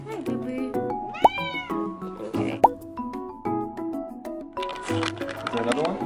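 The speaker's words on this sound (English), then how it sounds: "Alright, now for the main event. We got some cats." Several cats meowing in the cat room of a pet cafe in Japan, repeated close, high meows over ongoing chatter from people in the room.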